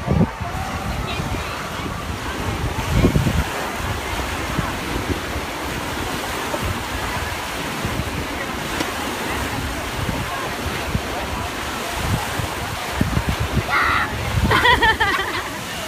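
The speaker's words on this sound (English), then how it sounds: "we're going to the wave pool." Wave pool at Six Flags Darien Lake water park, a continuous wash of churning water and crowd noise throughout, with occasional voices and shouts in the background.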